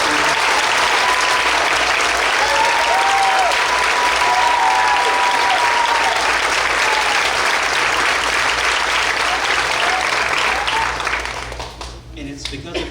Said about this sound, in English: can we give a round of applause to all the students?